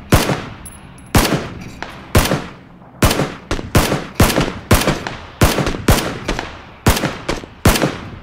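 Gunfire in a PUBG game, sharp rapid shots fired in repeated bursts of two to four cracks with short gaps between them, loud and close, with no voices.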